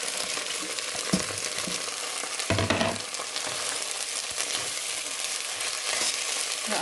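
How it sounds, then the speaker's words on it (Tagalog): Sardines sautéing with pechay, garlic and onion in a pan, a constant loud sizzle with a few stirring scrapes and clatters, and no voices. "igisa lang siya natin dito sa may pechay"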